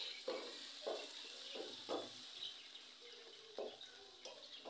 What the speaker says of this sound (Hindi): लहसुन अदरक का पेस्ट, और चिकन को फ्राई कर लेते हैं थोड़ा सा